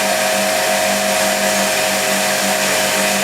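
An electric motor running on a dyno test stand, with the brake engaged to load it with torque, gives a steady, loud whine with a constant hum underneath that holds unchanged throughout.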